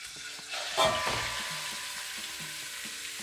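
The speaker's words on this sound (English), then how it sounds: "Once you've cut up your pork, it's time to brown it." Pork chunks browning in a hot pot hiss in a loud, close sizzle from the moment they land, with a brief clatter at the start and steady frying after.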